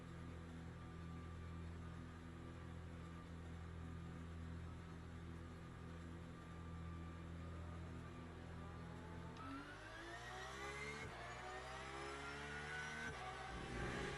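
A Porsche race car engine in the racing game Le Mans Ultimate drones at steady high revs, loud and constant, then climbs through rising revs with quick gear changes near the end.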